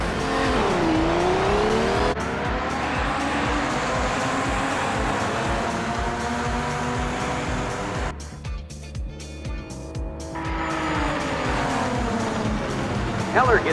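Race cars launching from a standing start in the racing game Project Motor Racing, a Porsche among them, loud engines revving and rising in pitch over a continuous roar, with a brief dip partway through.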